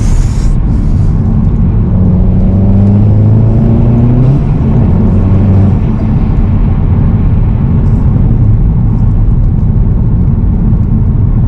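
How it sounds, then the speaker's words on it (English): Inside a Volkswagen Golf GTI MK7.5 driven hard, the engine drones loudly and steadily with a prominent air intake roar, pitch climbing through acceleration and dipping at shifts, continuous and close. "That air intake is just hilarious"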